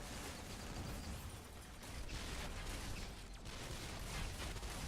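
Heavy tank rounds from War Machine in the Marvel Heroes Omega action game, a dense, continuous barrage of booming fire and mechanical clatter filling the whole stretch at steady loudness, with no talking.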